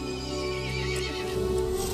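A horse in the video game Resident Evil Village neighs over a dense, droning game soundscape, its whinny blending into a continuous low rumble and steady mid-pitched tones, with no speech.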